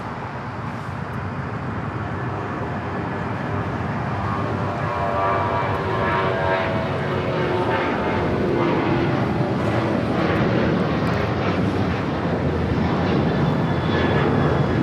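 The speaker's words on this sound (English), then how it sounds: "This is Alaska Airlines 798 taking off to Seattle on the 737-900ER." An Alaska Airlines Boeing 737-900ER takes off from Los Angeles International Airport, its jet engines building into a loud, sustained roar that grows slightly stronger over the fifteen seconds.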